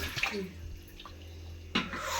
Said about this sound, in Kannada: ಈಗ ಸ್ವಲ್ಪ ವಾಟರ್ ಆ್ಯಡ್ ಮಾಡಬೇಕು. ನೋಡಿ ನೀರು.